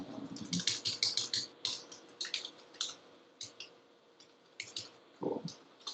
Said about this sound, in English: as Matt is typing that out